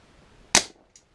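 A Webley MKVI CO2-powered .177 pellet service revolver fires a single sharp, close crack that quickly dies away, followed by a faint metallic tick.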